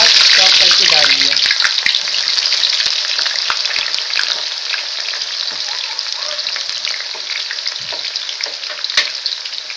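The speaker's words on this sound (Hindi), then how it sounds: "अब ऑयल में हम आराम आराम से प्याज डाल देंगे। ये हमने एक बड़ा प्याज चॉप करके डाल दिया।" A large chopped onion frying in hot oil for Bombay biryani, giving a loud, steady sizzle that holds throughout, with brief spatters and light stirring early on.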